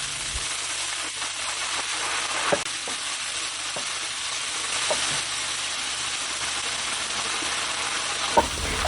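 Beef and edamame sizzle hard in a hot stir-fry pan, a dense, continuous hiss broken by a few faint clinks as the food is tossed.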